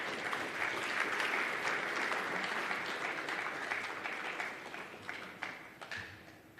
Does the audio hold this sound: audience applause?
yes